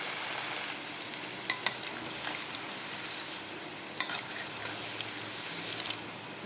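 Cabbage bonda snacks deep frying in hot oil over a medium flame, a steady low sizzle with occasional sharp crackles and pops as the pieces are turned.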